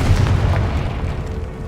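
A Confringo fire spell detonating in the Hogwarts Legacy game, a loud, deep booming blast that fills the short moment with a rumbling low roar and no speech.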